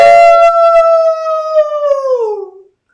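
A single sustained human howl imitating a wolf, sung at a full flower blood moon eclipse gathering, rising clear and loud with strong harmonics before sliding down in pitch and cutting off.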